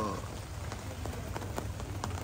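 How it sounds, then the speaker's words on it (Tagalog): Heavy rain beats on a camping tent at night during a family car-camping trip in Morong, Bataan, a dense steady patter of drops with quiet background talk. "malakas yung ulan"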